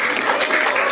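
A short stretch of lively applause from a group, steady clapping throughout with a faint murmur of voices.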